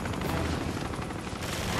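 Dense, continuous gunfire in the video game Uncharted 2 during a fight against a helicopter, a loud unbroken roar of shots that fills the whole moment.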